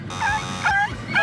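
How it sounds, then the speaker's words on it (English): A short dog whimper from an animal-sound guessing game show, two or three rising yelps in quick succession, close and fairly loud with nothing else around it. "A dog."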